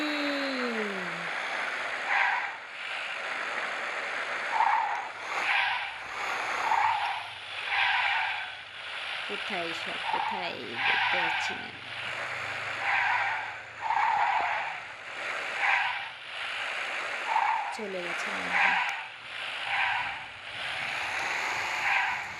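A vehicle in the Free Fire video game drives and skids, a steady engine-and-road noise rising and falling in waves with repeated tire-skid bursts, while a player speaks briefly over it.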